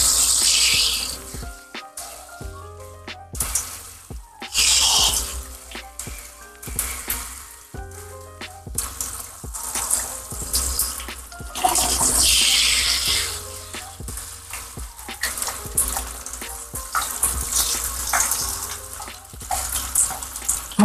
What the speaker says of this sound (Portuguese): Agora vamos enxaguar.